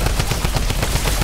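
Rapid crackling bursts of gunfire-like explosions in a creative-mode video game match, dense and loud, with no gaps across the short stretch.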